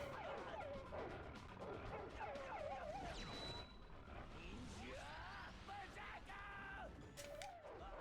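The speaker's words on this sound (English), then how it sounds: "Dogs." Dogs bark and yip in the video game I-Ninja, several bursts of barking over a dense game soundtrack of crashes and effects, moderately loud and continuous.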